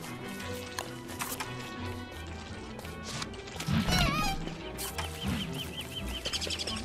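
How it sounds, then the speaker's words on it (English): Bird attacking the player in a video game, frantic squawking and clucking with whacks and crashes over busy game sounds, loudest in the middle of the stretch. "You have a bird attack."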